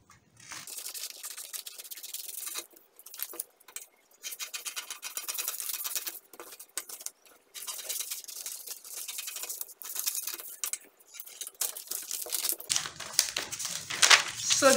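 Scissors cut out a paper dress pattern, with close crisp snipping and rustling paper in irregular bursts separated by short pauses.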